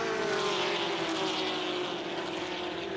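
A Ford GT40 race car, including the unique 1965 Targa Florio Roadster, lapping in the Whitsun Trophy at Goodwood Revival, its engine a loud, steady, droning roar holding a sustained tone with no talk over it.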